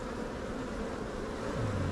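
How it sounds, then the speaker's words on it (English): Honeybees buzz around an opened beehive in a dense, continuous drone, with a few individual bees whining closer past the listener near the end. "Scoot some bees out of the way."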